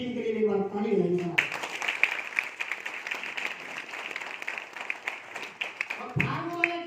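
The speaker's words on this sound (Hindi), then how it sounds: "मेरी प्यारी सी पूरी टीम के लिए एक बार ताली बजाइएगा।" An audience at a business leadership event bursts into sustained applause for a team, a dense wash of clapping lasting several seconds, with someone speaking over a microphone just before and after.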